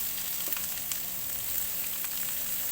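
Carrots and other vegetables sautéing in a pan for pancit bihon, a close steady sizzle with occasional small pops and stirring clicks, no talking.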